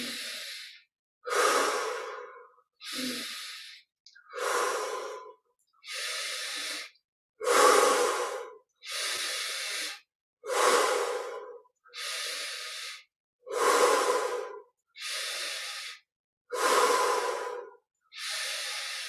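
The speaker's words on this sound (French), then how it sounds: "on prend 15 respirations profondes. Inspire par le nez, expire par la bouche." Slow, deep breaths during a guided meditation, drawn in through the nose and pushed out through the mouth, repeat about a dozen times in an even rhythm, each one close and clearly audible with short silences between.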